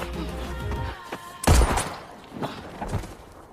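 Gunshots ring out in a film scene, with one sharp, loud blast in the middle followed by fainter thumps and cracks against a tense background.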